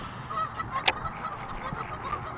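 Geese honk near a fishing spot by the water, repeated calls at moderate distance over outdoor ambience, with one sharp louder sound in the middle.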